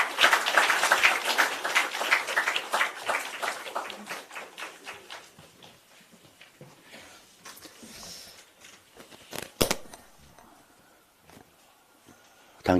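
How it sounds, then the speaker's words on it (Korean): Applause at a political party's year-end closing ceremony: dense clapping at the start that thins into scattered claps and taps, then a few isolated louder claps near the end. "큰 박수 부탁드립니다"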